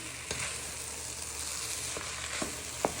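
Rice frying with pork mince and vegetables for pork fried rice sizzles steadily in a pan, with a few sharp scrapes and stirs near the end and no talking.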